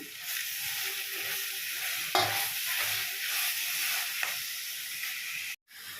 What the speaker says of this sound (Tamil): தக்காளியும் நம்ம கருவேப்பிலையும் போட்டுருவோம். அது கொஞ்சம் நேரம் வதங்கணும் நல்லா.